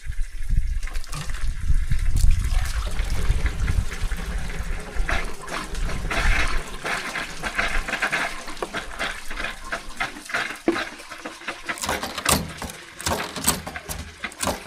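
Water pours steadily from a faucet, a loud continuous rush with gurgling and splashing that changes as the flow shifts, ending in sharper drips and clatter.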